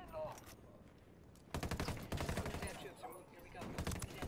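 Loud, rapid bursts of video game gunfire, a sustained volley breaking out partway through and continuing in dense, overlapping crackles with brief lulls.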